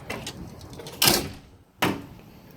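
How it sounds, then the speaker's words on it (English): Hotel room door lock with a latch bar being worked, two sharp metallic clacks about a second apart, close and loud, with faint handling noise before them. "Okay, so this door lock does work."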